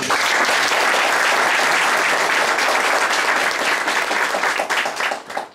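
Sustained, loud applause from a large crowd at a political party thank-you visit in Keşan, Turkey, steady throughout and thinning slightly toward the end.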